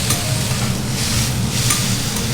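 Continuous crackling sizzle of fresh oysters cooking on a hot grill in Hiroshima, Japan, steady and close, with no voices.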